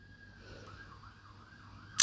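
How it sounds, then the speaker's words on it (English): A faint, distant siren wails with a slowly wavering tone under quiet room noise, ending with a sudden sharp click. "And we have a siren going on."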